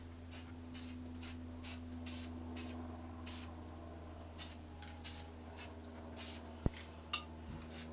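Short bursts of aerosol spray paint hiss in a quiet room as a galaxy design goes onto a round drum shell, a dozen or so quick sprays at a steady pace, followed by a couple of sharp clicks.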